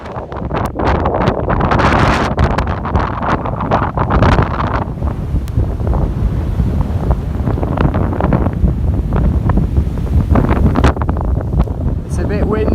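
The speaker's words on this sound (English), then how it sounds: "It's a bit windy." Strong gusting wind buffets the microphone outdoors on an overcast day on a road tour of Ireland, a loud continuous roar with rumbling low-end surges throughout.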